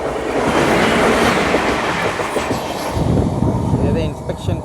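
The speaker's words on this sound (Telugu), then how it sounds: "ఇదే ఇన్స్పెక్షన్ కారు, దీనికోసం మన ట్రైన్ సైడింగ్ ఆపేశారు" A railway inspection car rolls past on the line with a loud, continuous rumble and rattling wheel clatter close by, easing off slightly at the end.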